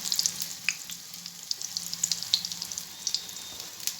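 Vegetable chops, a Bengali street-food snack, fry slowly in oil over a low gas flame, giving a steady, faint, crackling sizzle with scattered small pops and no voices.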